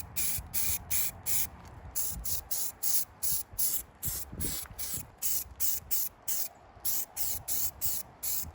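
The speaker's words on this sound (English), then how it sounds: "Okay, so I've just sprayed the third and final coat" A rattle can sprays filler primer onto an alloy wheel from a Ford Fiesta ST150 in short repeated hissing bursts, close and steady with brief gaps between passes.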